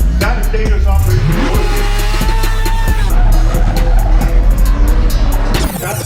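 A truck, apparently a Ford Raptor rival, slides across the ground with loud, sustained tire squeal and roaring engine, ending in an abrupt cut.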